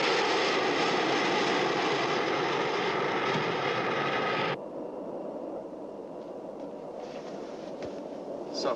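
A jet aircraft engine roars in flight while holding at 30,000 feet, a loud steady drone that suddenly drops to a quieter, muffled cabin hum.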